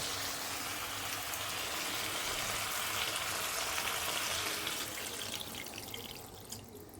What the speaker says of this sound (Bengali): এবার আমি যতটুকু আমার দরকার আমি জল দিয়ে দেবো